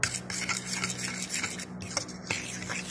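A spoon stirs and scrapes a potato recipe mixture in a metal pot, giving repeated close scraping and clinking strokes in an uneven rhythm, alone with no talk.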